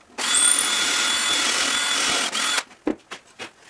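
Power drill boring a hole through wood, a steady loud whine running for about two and a half seconds, then stopping, followed by a few short knocks and handling sounds.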